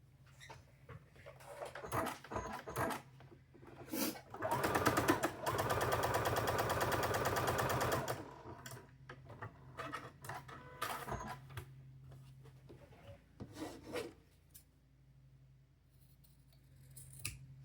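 A sewing machine stitches a diagonal seam across a quilt block, running steadily for about four seconds, with quiet clicks and fabric handling before and after.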